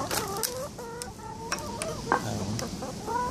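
Backyard chickens cluck and squawk in a busy, overlapping chatter close by, with sharp individual calls breaking through the flock's steady noise.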